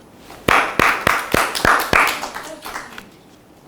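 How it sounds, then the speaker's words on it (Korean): An audience at a Bible lecture claps in praise of a participant, about six crisp, evenly spaced claps up close that then thin out and fade. "박수요"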